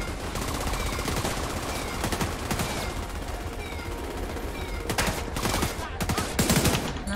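Rapid machine gun bursts rattle through a firefight in The Division 2, with dense, repeated volleys growing heavier toward the end and no voices over them.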